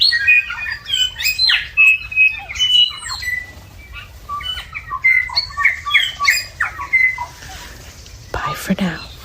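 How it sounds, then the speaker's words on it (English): A dense dawn chorus of bellbirds, stitchbirds, tui and whiteheads calling and singing together, with ringing, bell-like notes and chattering squawks overlapping throughout, fairly close and lively. "the loudest birds are the bellbirds, followed by the stitch birds, and the tui, and some whitehead"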